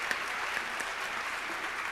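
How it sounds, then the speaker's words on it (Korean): A church congregation applauds during a special dawn revival service, a dense, steady wash of clapping filling the whole short span with no voices over it. "다시 한번 뜨거운 박수로 함께 축복해 주시면"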